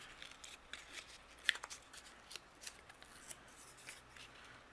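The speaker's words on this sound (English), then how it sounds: "So what I'm going to do is trim a little bit more off this top corner." Scissors trimming the top corner of a handmade greeting card, a few quiet snips and paper rustles close by in a calm crafting space, no voices.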